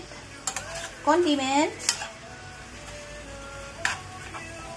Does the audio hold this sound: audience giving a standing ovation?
no